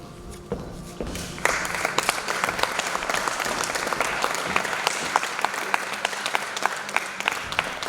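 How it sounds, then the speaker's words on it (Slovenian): Audience at a school closing ceremony bursts into applause, a few scattered claps swelling within two seconds into full, sustained clapping from the crowd. "Velik aplavz za vse."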